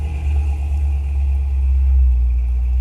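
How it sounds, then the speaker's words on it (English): A vintage Chevrolet car cruises past with a steady low engine rumble, loud and close throughout, swelling slightly as it passes without any voices. "This is what cruised past me. Isn't that gorgeous? It's a Chevrolet."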